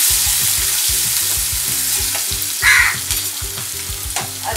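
A small onion frying in a pan for Schezwan fried rice, with a loud, continuous crackling sizzle and repeated scraping stir strokes close by.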